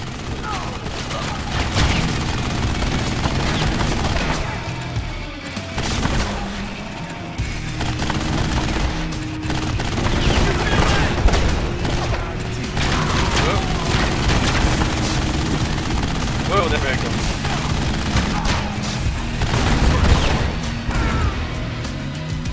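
Rapid gunfire bursts and booming explosions from the co-op video game Narco Terror, dense and continuous, with machine-gun rattles and mechanical clanks and people talking over the action.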